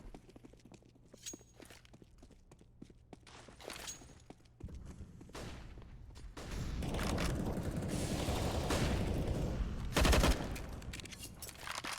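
Bursts of automatic rifle fire and single gunshots crack out in a Counter-Strike match on the Mirage map, with footsteps tapping at first, then dense overlapping gunfire building to a loud burst near the end.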